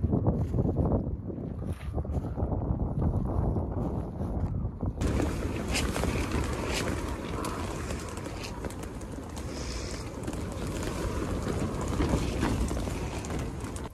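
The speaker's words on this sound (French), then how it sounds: "Ça souffle un petit peu ce matin là." Gusty wind on a morning bike trip roars across the microphone as a dense, loud rumble, softer at first and then surging into a sustained blustery howl.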